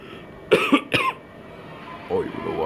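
Two sharp coughs close together, followed by a short stretch of quiet talking.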